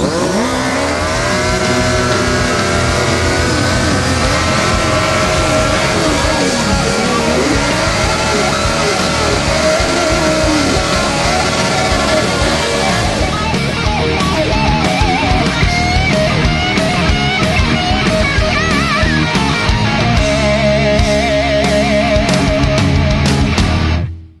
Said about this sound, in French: Un burn, c'est avant tout quelque chose de convivial, alors autant le faire à plusieurs.